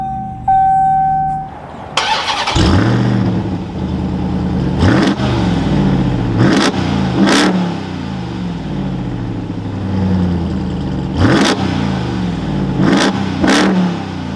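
Engine of a 2023 Ram TRX Havoc Edition pickup cranks and fires up with a loud roar, then settles into a deep idle broken by several sharp throttle blips that rise and fall, with no talking.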